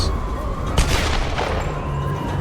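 Gunshots in Tomb Raider (2013) as enemies are dropped with headshots, a sharp crack near the start of the second, then sustained busy game noise and background din.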